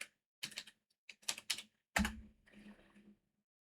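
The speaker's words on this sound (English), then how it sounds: "I'm just gonna type the password that I created" Password typed on a computer keyboard during an Arch Linux install, a few short bursts of crisp close keystrokes separated by pauses, ending in a firmer key press.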